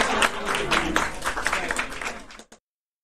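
An audience at a poetry evening applauds briefly, a close burst of mixed clapping that fades and cuts off abruptly after a couple of seconds.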